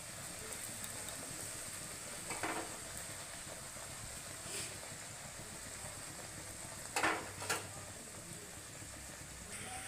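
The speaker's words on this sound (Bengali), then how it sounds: "দেখো এইভাবে আমি সব কটা কচুরি ভেজে নেবো" Pea-stuffed kachoris deep-frying in oil, a soft continuous sizzle with a few brief louder bubbling bursts as they are turned, fairly faint and steady with no talk.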